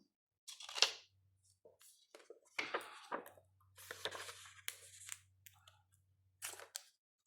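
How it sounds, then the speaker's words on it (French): Adhesive tape is peeled off a makeup palette in a few short, crackly tugs, close by and fairly quiet, with soft rustling between pulls and a low hum underneath. "Alors, je t'enlève le scotch."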